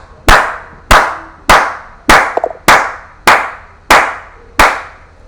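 A church congregation clapping together in acclamation, eight loud, crisp group claps in an even, steady rhythm with short gaps between them.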